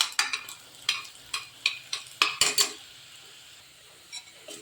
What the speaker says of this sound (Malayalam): കൈവിടാതെ ഇളക്കി കൊടുക്കണം.